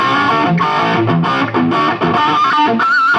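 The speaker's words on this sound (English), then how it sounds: "the booster I've got set up in here is what we call the overdrive, so more of a distortion pedal" Loud electric guitar played through a Yamaha THR100 amplifier on channel 2 with an overdrive booster, chords and sustained notes with a thick distorted tone, no voices.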